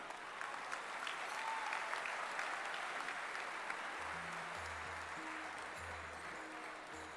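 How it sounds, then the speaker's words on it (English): Audience applause fills a convocation ceremony hall as graduates receive degrees and medals, a dense, steady wash of many hands clapping throughout with a faint low hum beneath. "Can we have a huge round of applause, my dear friends?"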